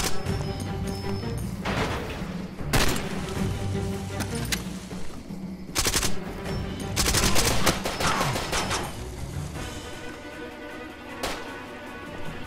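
Gunfire in the video game Far Cry 2: bursts of automatic fire and sharp single shots crack repeatedly throughout, loud and close over a busy layered game soundscape.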